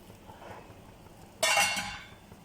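Measured hot water pours into a one-pot vegetable biryani with basmati rice, a sudden bright splashing gush lasting about half a second before tapering off, close by in a quiet kitchen.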